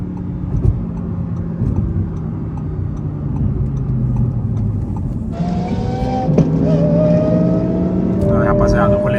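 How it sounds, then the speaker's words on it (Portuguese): A Lamborghini Huracan fires up from cold partway through with a sudden loud burst of engine noise, then settles into a steady, high-pitched idle, with someone talking over much of it. "Vamos ligar o bichão cold start, cara."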